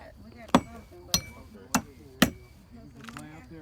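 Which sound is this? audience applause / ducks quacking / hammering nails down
hammering nails down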